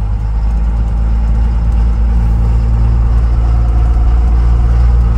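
A 6.7 Cummins diesel engine swapped into a 1978 Chevy Squarebody truck idles loudly and steadily up close, a deep continuous rumble with no voices.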